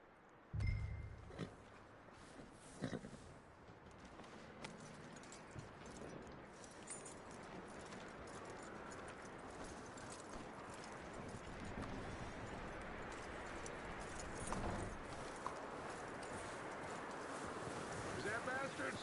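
A horse's hooves clip-clop in Red Dead Redemption 2, soft and steady under a low, busy background, with a few sharper knocks early on and voices talking in places.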